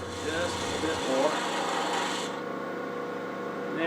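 A wooden twig pot being chamfered on a lathe, with a steady close rasping and scraping of the tool cutting the spinning wood that runs the whole way through, the higher hiss dropping away partway.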